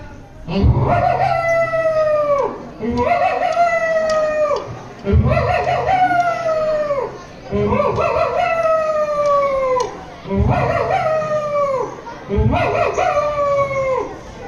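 At a Prathibha Karanji student talent competition, a voice mimics a rooster's crow again and again, six long drawn-out calls with short pauses between them, loud and close, some ending in a howl like a dog's.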